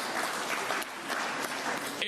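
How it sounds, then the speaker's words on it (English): Audience applause at the Queensland Firebirds netball awards, a brief steady patter of clapping from an indoor crowd, moderately loud with a voice briefly over it. "Round of applause indeed."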